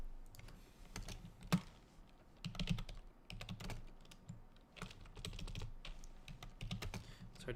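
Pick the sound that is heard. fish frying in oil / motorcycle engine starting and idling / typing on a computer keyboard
typing on a computer keyboard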